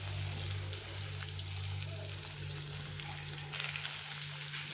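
Onions fry with a pinch of salt in a pan for a Bengali magur fish curry, a fine steady crackling sizzle over a low constant hum, moderately quiet, close and without voices.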